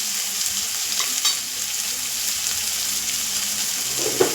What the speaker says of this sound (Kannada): ಈಗ ನಾನು ಸ್ವಲ್ಪ ಉಪ್ಪು ಹಾಕಿ ಲೈಟಾಗಿ ಅದು ಸ್ವಲ್ಪ ರಾಸ್ಮೆಲ್ ಹೋಗೋ ತನಕ ಒಂಚೂರು ಹುರ್ಕೋತೀನಿ